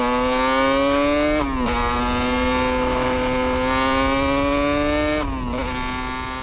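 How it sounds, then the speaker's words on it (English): A 2022 BMW S1000R straight-four naked motorcycle screams at high revs, its engine note climbing steadily through the gears with two brief dips at gear changes, loud and close throughout. "join me while I take this bike out for a little bit of a thrash around this beautiful evening"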